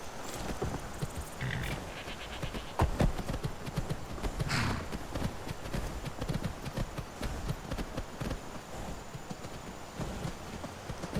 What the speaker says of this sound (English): but we'll take the horses